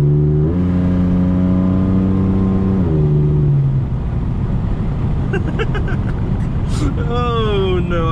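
Ford Sport Trac converted to an electric fan revs up under heavier throttle, its engine note climbing in pitch in distinct steps, then dropping and winding back up, loud and close throughout.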